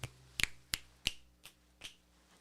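Fingers snapping, about six sharp dry clicks spaced unevenly across a couple of seconds, close and clear at first, then softer toward the end, with no talking.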